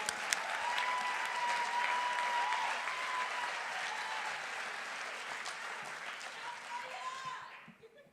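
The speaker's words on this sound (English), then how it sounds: "let's clap our poets all the way up to the microphone." An audience at the Verselandia 2015 poetry slam claps and cheers as a poet heads to the microphone, a steady, fairly distant applause with a few whoops and murmurs, tapering off at the end.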